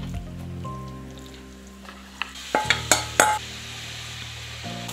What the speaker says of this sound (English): we're gonna mix this up. We're gonna fry this up.